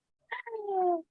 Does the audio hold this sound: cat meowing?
yes